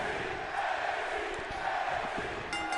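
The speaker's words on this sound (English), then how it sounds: "Crowd really behind Ivy Nile here on NXT" A large wrestling arena crowd in the video game WWE 2K22 roars and cheers in a continuous, dense wall of noise during an NXT women's match.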